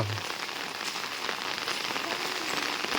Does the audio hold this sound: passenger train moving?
no